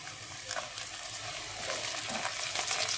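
Green chillies frying with browned onions give a steady, close sizzle, with soft scraping stirs now and then and no voices.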